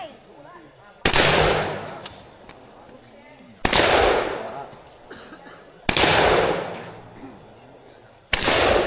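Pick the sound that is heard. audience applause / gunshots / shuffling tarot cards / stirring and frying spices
gunshots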